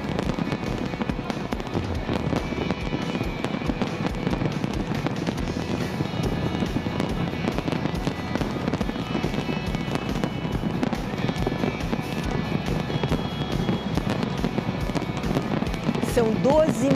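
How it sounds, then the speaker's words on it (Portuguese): New Year's Eve fireworks display over Copacabana beach, a dense, continuous roar of bursts and crackling that carries on for the whole stretch, with crowd voices mixed in. "São 12 minutos de queima de fogos em Copacabana."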